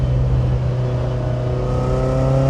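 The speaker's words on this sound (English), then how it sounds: "under hard acceleration, which sounds to me like a turbo" A high-mileage Ferrari engine drones steadily under hard acceleration, its pitch climbing with a breathy turbo-like whoosh layered over the low roar.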